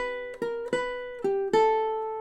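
Ukulele playing the ending of a song, a handful of plucked double-stop notes struck one after another with ringing decay, the last note held, played solo and close.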